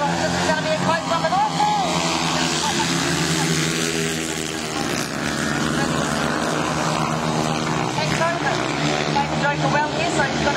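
Solo motorcycles racing on a track at Rosebank, their engines a continuous loud roar that swells and recedes as they circle, under steady commentator talk.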